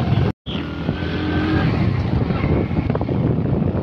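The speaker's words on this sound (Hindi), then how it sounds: "दोस्तों बाइक पे बैठ गए हैं" A motorbike rides along a village road with a steady engine drone and heavy wind buffeting the microphone, loud and close throughout after a brief dropout at the start.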